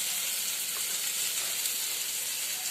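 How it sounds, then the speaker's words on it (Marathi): Okra sautéing in a pan of cooked masala makes a continuous, even sizzle and hiss at close range, steady and unbroken with no talking. "आता भेंडी टाकून देते छान परतून घेऊया"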